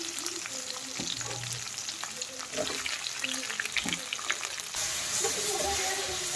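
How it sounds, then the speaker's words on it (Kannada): Capsicum and tomato fry in a pan, a close crackling sizzle broken by stirring scrapes and clinks, growing slightly louder toward the end. "ಫ್ರೈ ಆಗ್ತಾ ಇದೆ ಕ್ಯಾಪ್ಸಿಕಮ್ಗೆ."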